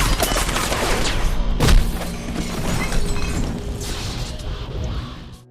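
Bursts of gunfire in a Marvel superhero film fight as Matt dodges shots from Quesada's henchmen, loud and dense, with shattering and crashing impacts throughout and a heavy hit near the two-second mark.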